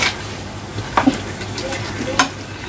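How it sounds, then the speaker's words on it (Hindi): Spicy nihari being stirred in a tall pressure cooker, with a steady hiss of sizzling and a few soft scrapes and clinks of a utensil against metal. "कुकर जरा ऊंचा है ना तो थोड़ा मेरे को दिक्कत हो रही है हिलाने की।"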